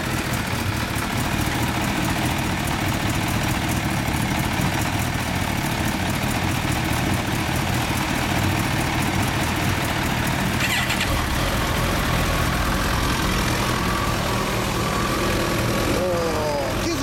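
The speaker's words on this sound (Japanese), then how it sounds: "15年、エンジン音聞かせてもらいました。" A 2015 Kawasaki Ninja H2 sport motorcycle engine runs steadily throughout, a loud continuous rumble near the listener, with a brief higher rev-like change toward the end.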